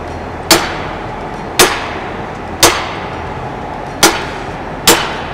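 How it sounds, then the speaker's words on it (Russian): A metal hammer strikes a pane of tempered glass five times at a double-glazing factory. Each blow is a loud, sharp crack at an even, unhurried pace, and the glass holds without shattering. "Попробуем его металлическим молотком."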